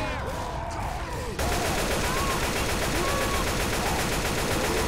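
Gunfire in Left 4 Dead 2, a dense automatic burst that starts abruptly after a quieter opening and keeps firing loud and close to the end, with voices faintly beneath.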